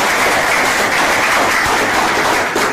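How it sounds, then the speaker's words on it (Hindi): A live audience claps steadily and loudly in a dense, continuous burst of applause at an event, with no talk over it. "एक बार ताली बजा दो इन्होंने"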